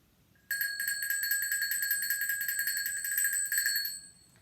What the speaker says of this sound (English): I'll ring the bell and you come into child's pose.